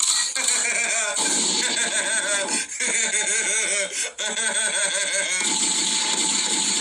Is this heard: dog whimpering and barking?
yes